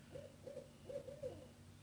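Several soft, low hoots from an owl in a tree outside an open window, spaced in a loose rhythm, faint and distant over a quiet room hum.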